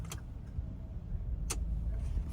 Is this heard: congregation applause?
no